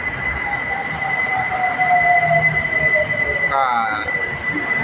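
A BTS Skytrain Silom Line train passes through a station, a steady rolling rumble with a sustained high-pitched squeal and a falling whine as it moves, briefly joined by a sharper brake or door tone near the end.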